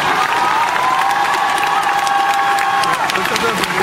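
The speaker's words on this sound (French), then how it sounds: "Je sais pas pourquoi vous applaudissez d'ailleurs." A theatre audience claps and cheers at a French comedy quiz show, dense applause filling the room steadily from start to finish, with a sustained tone running beneath it.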